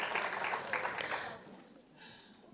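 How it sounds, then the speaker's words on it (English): An audience at the Greater Boston International Women's Day Breakfast applauds, a dense patter of clapping that fades out after about a second and a half, leaving a brief quieter tail. "So please give yourselves a round of applause for coming together to celebrate"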